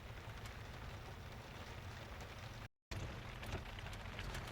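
Rain falls during a storm in the hills of south-eastern San Diego, a soft, steady patter broken by one brief moment of silence.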